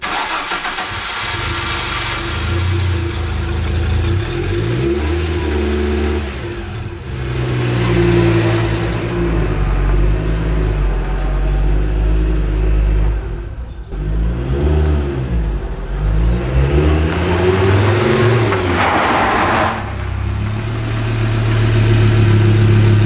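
An Audi 200 Quattro Turbo being driven during a brake test, its engine droning loud and close with repeated revs rising and falling over a steady low rumble, with no talking.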